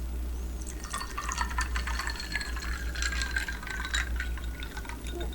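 Liquid is poured into a decanter, a soft trickling fill with gurgles and small glassy drips over a low background hum, fairly quiet and close.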